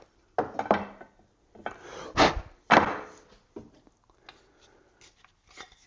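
Wooden workpiece block flipped and knocked against a box joint jig on an Incra fence system: several close, dry wooden clunks and rubbing scrapes in short bursts, then quieter shuffling taps, with no talking.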